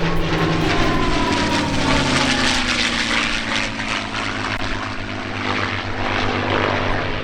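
A P-51 Mustang warbird flies past at an airshow, its propeller engine a loud, close, continuous roar with a deep throbbing drone throughout.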